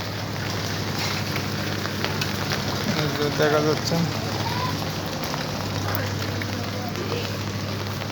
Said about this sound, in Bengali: আচ্ছা বৃষ্টি হচ্ছে দুই তিন দিন খরা হওয়ার পরে আজ হঠাৎ করে বৃষ্টি বৃষ্টি খুব জোরে